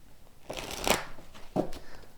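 Playing cards are shuffled in two quick riffling bursts, close and fairly soft, with brief rustles between, during a tarot-style card reading.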